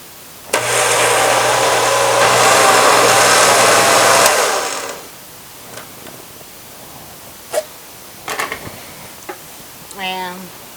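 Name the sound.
blender pureeing a can of tomatoes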